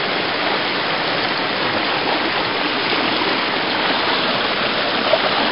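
A mountain stream rushes over rocks near a hiking trail in a steady, loud, full broadband wash of flowing water that runs unchanged throughout.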